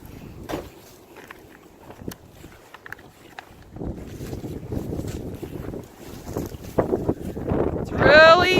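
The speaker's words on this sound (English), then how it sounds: "It's really cold and windy out here today," Gusty wind buffeting the microphone outdoors on a cold, windy day in low rumbling bursts, with a few clicks and a brief high squeal near the end.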